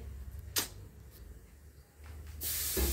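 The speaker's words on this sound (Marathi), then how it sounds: "फोडणी तडतडायला लागलेली आहे" Tempering spices crackle and sizzle in hot oil for an urad dal soup, with a sharp burst of spitting early on and a louder, sustained hiss building near the end.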